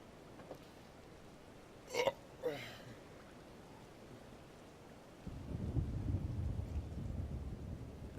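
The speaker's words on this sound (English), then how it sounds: "I heard that holding your breath can help get rid of hiccups." A character in the Star Wars The Old Republic video game hiccups twice in quick succession, short sharp vocal jerks over a quiet background, followed later by a low rumbling ambience.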